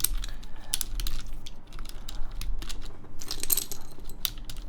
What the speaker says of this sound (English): I'm taking off my keycaps